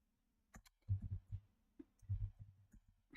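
Quiet clicking from a computer keyboard, a few scattered taps followed by two short bursts of rapid keystrokes, close and faint.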